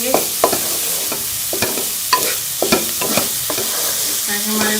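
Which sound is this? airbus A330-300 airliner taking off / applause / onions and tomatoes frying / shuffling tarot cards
onions and tomatoes frying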